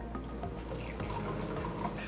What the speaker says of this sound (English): we're just gonna pour it right into the cup